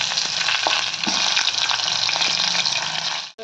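Brinjal frying in hot oil seasoned with mustard seeds, cumin and asafoetida for a stuffed Gujarati eggplant curry, a steady loud sizzle with scattered crackling pops that runs the whole time without talk and stops sharply at the end.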